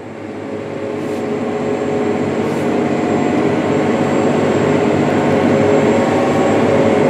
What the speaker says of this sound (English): We can throttle up a little bit.